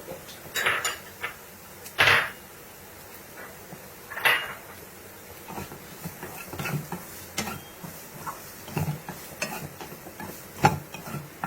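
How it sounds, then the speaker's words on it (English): Peppers are stirred into sweated onions in a pan, with repeated close scrapes and clanks of a spoon against the pan over a soft background sizzle that continues throughout. "Now my onions are all set and sweat, so I here add my peppers."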